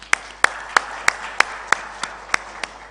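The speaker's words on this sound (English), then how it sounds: "please can you clap for yourself?" Clapping at a panel discussion on digital creatives during a tech week event: about nine crisp, evenly spaced claps in a steady rhythm, fairly close and distinct, over a quiet room.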